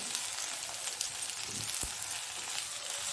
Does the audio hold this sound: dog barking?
no